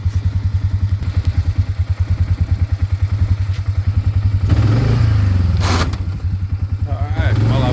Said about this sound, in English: we'll go for a little four-wheeler ride